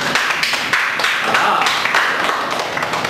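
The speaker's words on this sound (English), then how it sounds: "Give him a nice round of applause." Audience applause at a charity telethon stage show after a comedy bird-impression act: dense, steady clapping filling the room close by, with a few sharper taps standing out over the wash.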